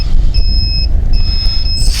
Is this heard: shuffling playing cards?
no